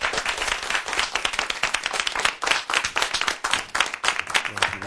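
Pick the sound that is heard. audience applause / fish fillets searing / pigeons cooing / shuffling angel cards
audience applause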